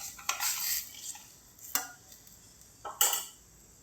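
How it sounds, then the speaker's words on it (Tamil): A spoon scrapes and clinks against a pan while potato peas masala is stirred, giving three or four short metallic knocks with soft scraping between them. The sounds are close and quiet, and no one speaks. "இப்போ கலந்து விட்டுடலாம்."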